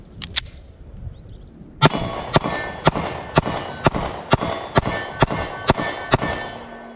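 A Sig P365 NRA edition pistol fires about eleven shots at steel targets in a steady, evenly spaced string, each crack sharp and loud with a ringing metallic ping from the steel.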